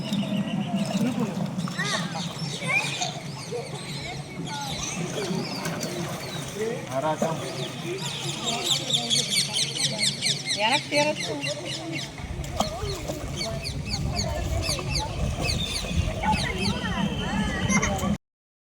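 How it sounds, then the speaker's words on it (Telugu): Many kinds of birds call and sing together in tall trees near a hillside temple at evening, a dense, steady chorus that continues throughout, with a voice talking over it. "ఈవినింగ్ అయ్యేసరికి పక్షులు అయితే అసలు ఎంత ప్లెజెంట్గా సౌండ్ చేస్తున్నాయంటే ఒక మ్యూజిక్లా అనిపించింది వినడానికి"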